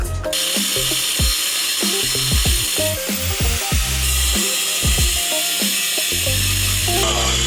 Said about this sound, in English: So I'm gonna start cutting.